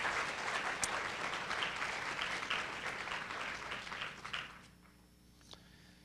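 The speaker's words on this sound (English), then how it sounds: "big congratulations, round of applause, claps for our team" An audience at a school family event applauds for a team, steady dense clapping that thins and fades out near the end, followed by brief near-silence.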